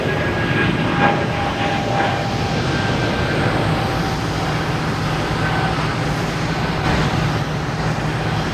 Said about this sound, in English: we have a JetBlue coming in from Cleveland and a JetBlue heading to Pittsburgh